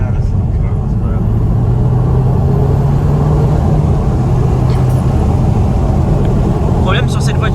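Audi TT Mk2 2.0 TFSI 200 hp accelerating from inside the cabin, a steady loud low engine drone with rising pitch and faint turbo whistle, well damped, with voices talking over it.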